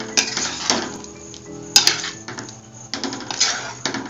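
Paneer butter masala with garam masala and sugar being stirred in a pan, with a few distinct clanks and scrapes of a spoon against metal over a soft simmer, no voices.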